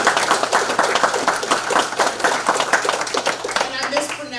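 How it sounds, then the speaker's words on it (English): A crowd at a Mississippi book event applauds for an author, steady clapping under a talking voice that runs across the whole burst and thins out near the end. "Everybody give Joe a round of applause"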